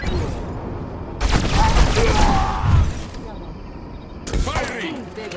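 Gunfire from the video game Destroy All Humans! 2: Reprobed, loud broadband bursts of shooting in two main volleys, mixed with game voices and a busy background.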